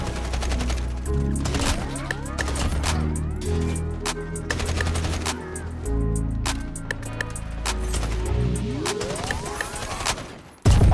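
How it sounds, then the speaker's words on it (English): Rapid gunfire in the video game Modern Warfare while a sniper rifle is in use, with dense overlapping shots and bursts cracking loudly and nearly without pause, a few echoing booms among them, and no talking. "This is my favorite sniper in the game."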